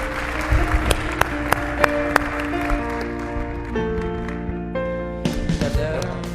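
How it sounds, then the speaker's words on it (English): Audience applause at the close of a day-long in-person event, with scattered sharp claps standing out over a steady background of crowd noise and overlapping talk. "Let's give another round of applause for Jim and Dee Dee and Dan and Jen."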